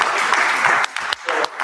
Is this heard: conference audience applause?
yes